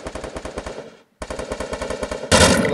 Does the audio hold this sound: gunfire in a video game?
yes